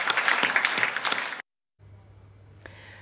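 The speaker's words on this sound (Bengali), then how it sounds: "সবাই মিলে আমরা এটা হাততালি দিই তার জন্য" Short burst of audience clapping at a news event, a crisp, busy patter of hands that cuts off abruptly, followed by near silence and a faint low hum.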